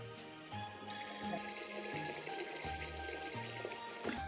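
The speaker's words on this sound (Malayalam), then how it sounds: "ഞാൻ ഇതേ തിളപ്പിച്ചാറ്റിയ വെള്ളം കൊണ്ട് വെച്ചിട്ടുണ്ട്, ഇതിലേക്ക് ഒഴിച്ചു കൊടുക്കുകയാണ്." Boiled and cooled water is poured from a vessel onto crushed grapes for homemade Christmas wine. The pour is a steady, close splashing stream that runs continuously for about four seconds with no talking.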